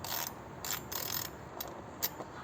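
A TOHO 3/8 speedster ratchet wrench clicks in short bursts of ratcheting, quiet and close, with small pauses between the runs of rapid pawl clicks.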